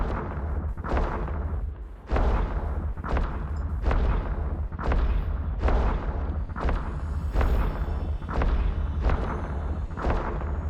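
Weapons in EVE Online fire at a locked target in a regular series of heavy booming shots, roughly one per second, over a low constant ambient drone.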